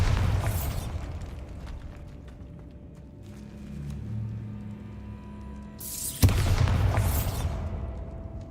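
Bombarda explosion spell cast in Hogwarts Legacy, a sudden loud blast with a booming crackle that follows a low rumbling buildup, close and alone without talking.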